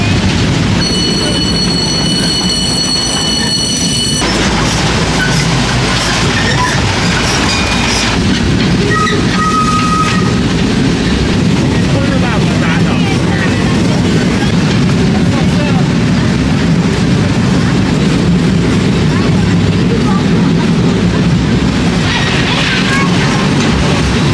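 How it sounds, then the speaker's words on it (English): Express train ride at Walibi Rhône-Alpes amusement park, loud and close with rumbling wheels and clickety-clack, an early whistle-like tone and a later squeal, with voices mixed in. "we have just taken a ride on the express train"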